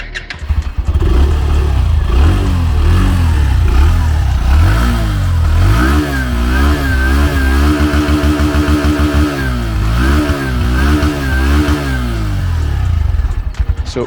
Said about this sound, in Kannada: ಇನ್ನು ಹೀರೋ ಗ್ಲಾಮರ್ ನ ಎಕ್ಸಾಸ್ಟ್ ನೋಟ್ ಯಾವ ರೀತಿ ಇದೆ ಚೆಕ್ಔಟ್ ಮಾಡೋಣ